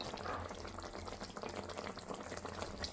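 Masala for a tamarind fish curry sizzles on low heat in a pan while being stirred, a faint, steady crackling fry with no voices.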